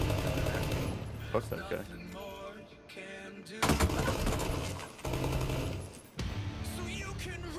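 Rapid bursts of automatic gunfire in a multiplayer shooter game, clustered in several loud volleys with short gaps between them, heard under a player talking over voice chat.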